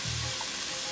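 Zucchini, mushrooms and peppers hit a hot pan with a loud, dense, close sizzle that fills the whole brief moment.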